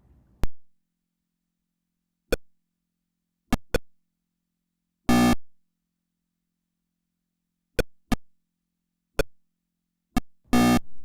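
Sounds from the 1972 Pong arcade video game: sparse, sharp electronic blips spaced irregularly across near silence, with a couple of longer buzzy tones among the short beeps.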